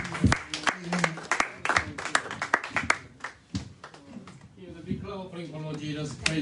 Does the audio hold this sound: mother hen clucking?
no